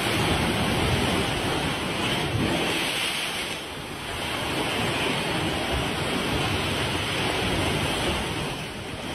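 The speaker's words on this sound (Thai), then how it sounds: "ณเวลานี้มีแต่คลื่นลมแล้วก็ฝน" Rough waves and strong wind at sea off Koh Sukorn, Trang, in stormy rainy weather, a loud continuous roar of surf and gusting wind buffeting the microphone throughout.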